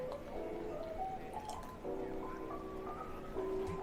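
Egg and milk poured into a yeast mixture, a soft close trickle with faint dripping and gurgling plops, quiet and continuous.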